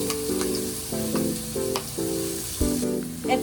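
Minced garlic fries in a pan for pares. A close, continuous sizzle with brief stirring scrapes and clinks recurring throughout, and no voices.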